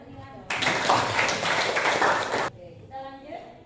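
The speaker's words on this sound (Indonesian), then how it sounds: "beri tepuk tangan untuk Nila." A classroom of students bursts into applause for a classmate, a dense two-second round of clapping that cuts off sharply as a teacher's talk resumes around it.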